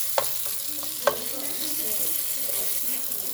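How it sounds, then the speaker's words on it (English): Sausage cooking in a pan for a seafood boil, a steady sizzle with a couple of sharp scrapes or clicks from stirring early on, close by, with faint murmuring voices in the background. "And then we'll have the sausage over here cooking."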